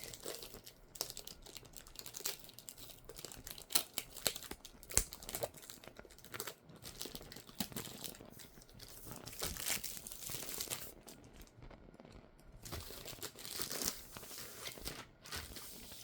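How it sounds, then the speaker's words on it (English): Thin plastic packaging being worked open, with continuous crinkling, crumpling and occasional tearing, close and fairly quiet throughout, no talking. "I really don't want to tear the plastic"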